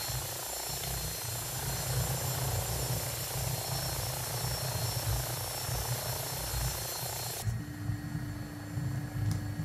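Engine of an AW109SP helicopter in the flight simulator X-Plane 12, a steady broadband turbine roar with a low rotor throb, running continuously and changing tone near the end.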